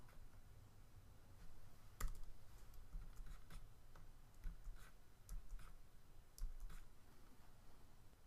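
Faint, sparse clicks of a computer mouse during Photoshop stamp-tool retouching, a handful of small separate ticks over a quiet room hum.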